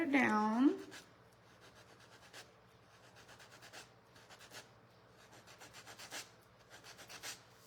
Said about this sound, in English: Just sanding it down.